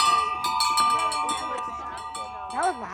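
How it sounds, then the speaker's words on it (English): A musical fence at a nature centre rings out with bell-like metallic tones, several struck notes sustaining and overlapping, with a brighter swell near the end; voices are faintly present. "Musical fence. It's just a fence that makes music."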